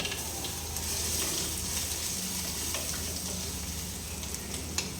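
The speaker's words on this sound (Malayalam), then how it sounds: "നമ്മൾ കടുക് പൊട്ടി കഴിയുമ്പോൾ അതിലേക്ക് ഇടുക" Ginger, garlic and shallot paste hits popped mustard seeds in a clay pot, giving a loud, steady, close sizzle with soft stirring underneath.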